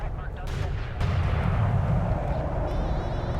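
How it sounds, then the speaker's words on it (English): An artillery barrage in the real-time strategy game Homeworld: Deserts of Kharak, a dense, rumbling roar of overlapping booms under commentators' voices. "Very good barrage here."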